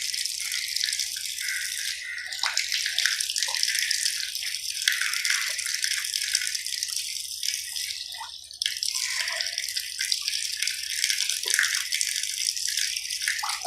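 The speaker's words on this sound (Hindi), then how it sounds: "3 बार आपने कुली करनी है।" Water splashes and drips steadily while the mouth is rinsed three times during wudu, a continuous wet trickle close by with small gurgling bursts and no talk.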